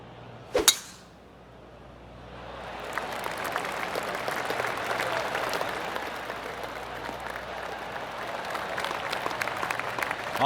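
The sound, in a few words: golf crowd applause in PGA Tour 2K25 video game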